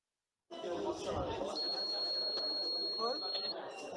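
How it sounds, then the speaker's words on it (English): Eyelid-sensing glasses give a thin, steady electronic beep lasting about two seconds, faint beneath a voice and background chatter at an indoor club event. "when you close it for 2 seconds, it beeps"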